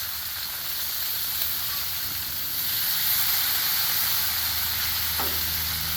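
Bacon frying on a Blackstone griddle: a loud, steady hiss of sizzling fat that grows slightly fuller partway through, heard close with no one speaking.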